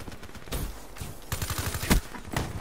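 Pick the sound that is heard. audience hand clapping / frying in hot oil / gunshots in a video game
gunshots in a video game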